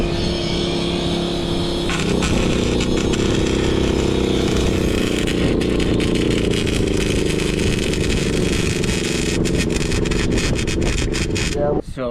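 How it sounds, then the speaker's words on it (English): A larger generator runs to power a welder at a Montana backcountry campsite, its engine humming loud and constant throughout, with a brief rattle near the end. "So we just hooked up a bigger generator to get more heat in the welder"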